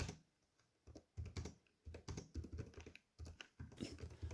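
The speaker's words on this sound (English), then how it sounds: "This is what the keyboard sounds like." Keys clack on a Lenovo Legion 5 Pro laptop keyboard from 2021, a quiet run of quick typing bursts with short pauses between them, close and alone.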